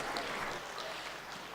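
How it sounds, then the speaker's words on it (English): Audience applause at a summer fashion festival show: a steady, dense wash of clapping from a crowd that holds at an even level for the whole short stretch. "Why not give me a big round of applause?"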